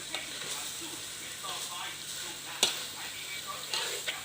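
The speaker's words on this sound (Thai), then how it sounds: "เราก็จะผัดนะครับตอนนี้" Field rat meat is stir-fried in a very large wok for a spicy Thai dish, giving a steady close sizzle with scraping stir strokes and a sharp clank of the utensil against the pan, with no one talking.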